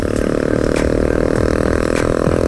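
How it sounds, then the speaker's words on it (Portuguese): A Honda CB300 motorcycle engine runs loud and close with an uneven, rough note and intermittent clattering, cutting out and catching again from a fuel problem, with no talking. "A moto aí tá apagando e funcionando, apagando e funcionando, tá do combustível."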